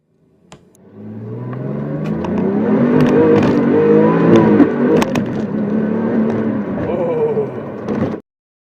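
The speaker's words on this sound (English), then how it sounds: "slide through the gears effortlessly in a turbocharged German sports car, like so" A turbocharged German sports car engine revs and pulls hard, its pitch rising and dropping as it runs through several gear changes, loud and close for several seconds.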